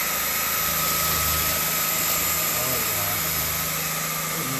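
A BuTure VC80 cordless vacuum cleaner running on max power picks up crumbs from a hardwood floor, giving a loud, unbroken motor whine and airflow hiss that stays constant throughout.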